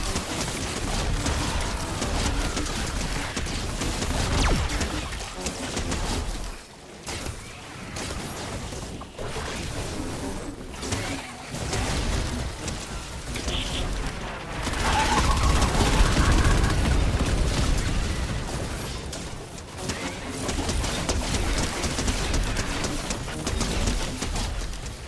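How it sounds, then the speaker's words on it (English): Fortnite anti-air missiles launch in a sustained barrage, a dense, loud stream of bursts, whooshes and booms with brief lulls, lasting throughout with no clear pauses. "That's a lot of anti-air missiles."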